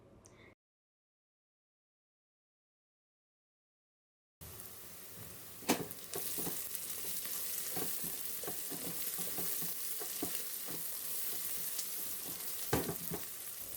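Onions sauté in a pan with a continuous close crackling sizzle. Irregular stirring scrapes and clicks come through, a brief silent gap opens the passage, and a couple of louder knocks land near the start and end.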